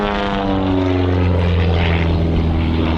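Blue Angels propeller airplanes roar past close at an airshow, a loud steady drone with layered engine tones, with no talk over it.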